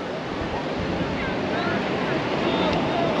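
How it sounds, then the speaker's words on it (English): Ocean surf breaks and washes steadily along the beach at Cox's Bazar in Bangladesh, a broad continuous roar with breezy wind noise over the microphone, fairly close and sustained. "It's nice and breezy, the waves are looking good."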